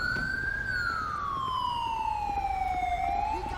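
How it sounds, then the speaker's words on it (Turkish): An ambulance siren in the video game GTA 5 with the LSPDFR police mod, a single long wail sweeping slowly downward, then starting to rise again, over a low rumble of traffic and engine noise. "Ambulans geliyor geldi."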